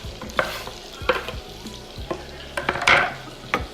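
Chopped onions frying for cornbread stuffing crackle in a pan as a utensil stirs them, producing irregular scraping knocks over a steady close sizzle, with a louder flare near the middle and no speech.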